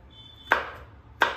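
A kitchen knife chops fresh garlic on a cutting board for paneer butter masala, two sharp separate chops spaced about half a second apart, close and clear with no talking.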